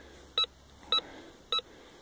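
Metal detector giving four short, evenly spaced high-pitched beep tones, each about a tenth of a second, clear against a quiet background hiss.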